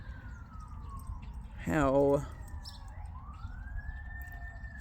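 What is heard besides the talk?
fire truck sirens passing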